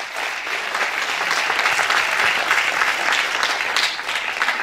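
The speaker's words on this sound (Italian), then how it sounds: "Ancora un applauso, Daniele Chirico." Steady, loud applause from a sizable crowd, dense clapping sustained throughout with no pauses.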